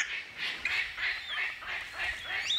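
Palm cockatoo calling in an Australian rainforest, giving a run of loud, harsh, honking squawks in a steady rhythm of about five calls, close and clear with no talk over them.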